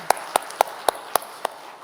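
Six sharp, evenly spaced hand claps in a church sanctuary, a slow steady rhythm of distinct single claps, close and fairly loud over a quiet room.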